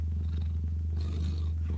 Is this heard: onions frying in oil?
no